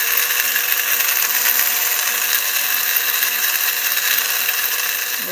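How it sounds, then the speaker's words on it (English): Electric spice grinder whirring loudly and steadily as it grinds allspice, a bright continuous buzz close by that eases slightly at the very end, with no talking. "So this is my spice grinder. What we're going to do is add a little bit of Allspice."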